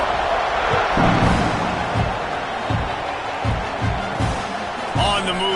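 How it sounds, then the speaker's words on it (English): A football stadium crowd at an Ohio State game buzzes steadily after a touchdown, a broad roar with scattered thumps and claps, while a play-by-play announcer talks over it. "this crowd is buzzing after that last score"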